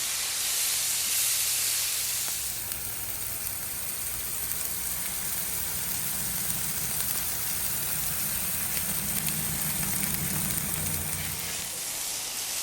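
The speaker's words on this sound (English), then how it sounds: "And the pork chops down on the other side of the griddle" Pork chops sizzle loudly and steadily on a hot Blackstone griddle, a dense hiss and crackle that starts abruptly and carries on without talk.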